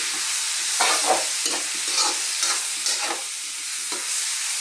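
A spoon stirs tomato and onion in a pan of Filipino callos with ox feet, giving repeated clattering scrapes in an uneven rhythm over a steady background hiss, close and fairly loud, with no talking.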